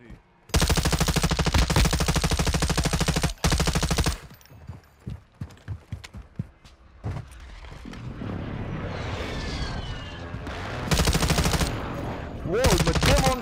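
Bursts of automatic gunfire in the Warzone 2 video game, loud sustained volleys at the start and again near the end, with scattered single shots and quieter game noise between, while players talk over it.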